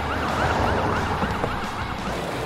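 An ambulance siren wails continuously in a loud, repeating rising and falling pattern over a dense wash of traffic noise.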